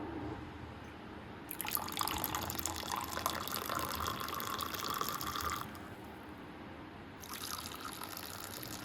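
Orange and lemon tea poured through a strainer, a steady close trickling stream that runs for several seconds, stops briefly, then resumes.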